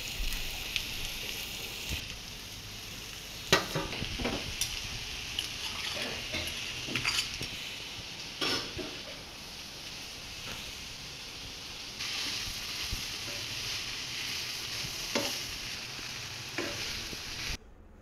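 Chopped banana stem and pre-fried potatoes stirred and frying in a pan with green chilli, salt and garam masala, a steady sizzle under repeated scraping, clattering stirs at close range, with no talking.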